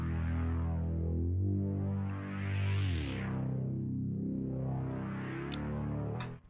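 Melodic bass synth in an Illenium or Seven Lions style, its tone sweeping brighter and darker under filter automation across several sustained notes, loud, up front and continuous with no voices.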